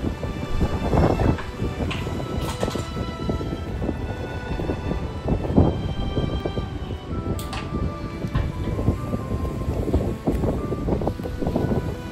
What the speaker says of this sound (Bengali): হাওয়ার আওয়াজ শুনে নিশ্চয়ই বুঝেছেন কত জোরে হাওয়া দিচ্ছে।